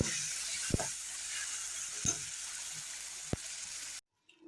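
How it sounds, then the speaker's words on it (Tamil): Ground masala paste sizzles in a pan for tomato kurma, a soft, steady frying hiss broken by a few sharp spoon scrapes and taps as it is stirred, then cutting off abruptly. "இப்போ இந்த பேஸ்ட் போட்டு நல்லா வதக்கிக்கலாம்"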